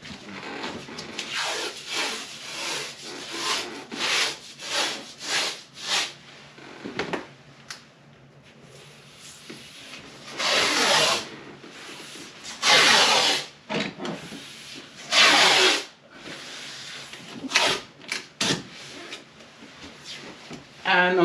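Painter's tape is pulled from the roll and pressed onto a wall to mark studs, giving bursts of ripping and rubbing, some loud and close, separated by quieter gaps.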